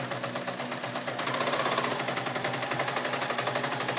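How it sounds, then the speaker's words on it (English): A sewing machine stitching denim cut from old jeans runs in a fast, even mechanical rattle at close range, briefly slower at first and then speeding up into a steady clatter. "I'm going to sew across the straight end, back stitching at the beginning and the end"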